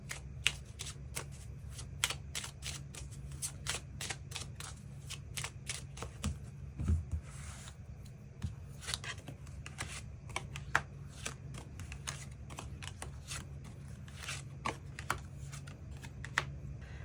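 Tarot cards are shuffled repeatedly, giving soft, steady riffling and flicking for the whole stretch, close and fairly quiet, with no voices.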